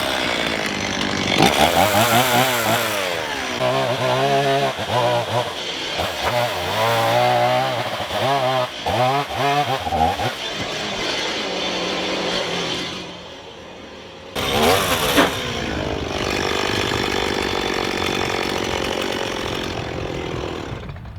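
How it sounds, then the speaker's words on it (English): A chainsaw cuts a window opening through the wall of a small log house built from reclaimed material, the engine revving and bogging in repeated loud bursts with short pauses between passes. "I'm going to cut the whole opening in the wall with a chainsaw"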